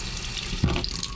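Water runs briefly from a tap into a stainless steel sink inside a 2014 Mercedes Sprinter 2500 high-roof van, a short close splash over steady background hiss.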